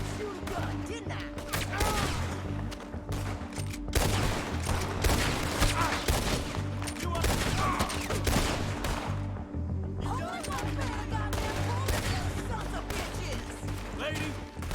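Rapid gunfire from a Red Dead Redemption 2 train robbery battle, dense, repeated sharp shots crackling steadily through the whole stretch, mixed with game voices and a player talking over the shooting.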